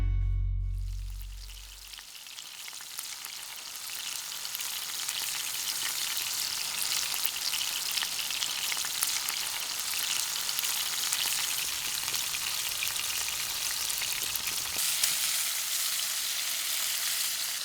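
Food fries and sizzles in a pan while dinner is cooked, a dense steady crackle after a brief low thump at the start, close and continuous with no talk.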